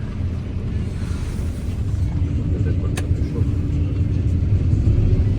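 A combine harvester engine runs while threshing soybeans in a field, a heavy, steady low rumble that swells slightly toward the end, with muffled voices over the machine.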